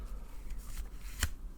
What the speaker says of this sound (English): here I shuffle until Spirit asks me to stop